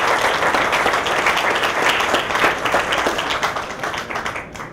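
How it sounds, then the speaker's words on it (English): An audience at a film festival awards ceremony gives an award winner a full round of applause, loud, dense clapping that holds steady and then thins out toward the end. "Let's give him a round of applause."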